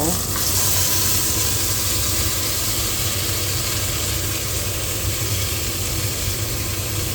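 Beef for bulalo sears in a pot with a steady, loud, close sizzle throughout, without pause.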